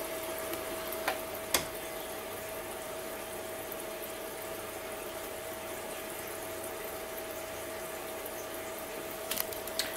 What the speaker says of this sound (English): And it starts cleaning up by flushing for another 5 minutes.